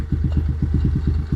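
A brand-new motorcycle engine idles steadily just after start-up, a close, even low putter with regular firing pulses and a slight mechanical clatter, no one talking.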